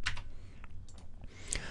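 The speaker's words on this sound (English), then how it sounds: "Use the arrow keys just to position a little bit better." Arrow keys on a computer keyboard being tapped several times during frame-by-frame animation work, producing sparse, light clicks spread across a quiet moment.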